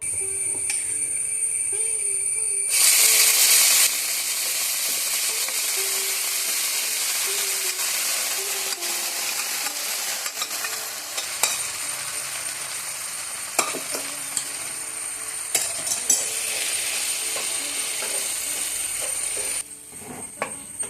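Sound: onions and vegetables frying in pan

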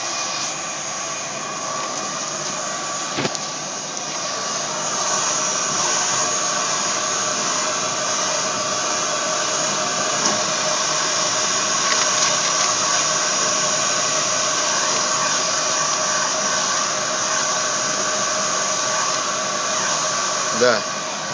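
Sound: exhaust fan running on WJ-UV400 UV curing dryer

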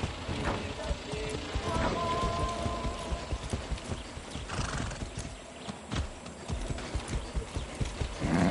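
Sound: horse hooves clip-clopping in a PS4 video game

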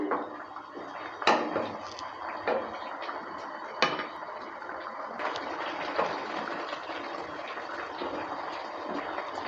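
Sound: kofta curry boiling on high heat

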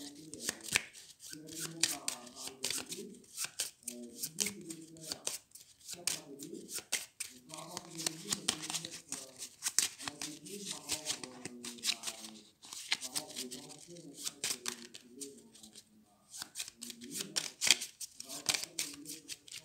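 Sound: shuffling a deck of board game cards

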